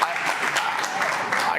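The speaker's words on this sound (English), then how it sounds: "We'll be here all night if we have to applaud every time" Applause at a city council meeting, a steady round of clapping from the audience filling the whole moment, close and fairly loud with a continuous texture.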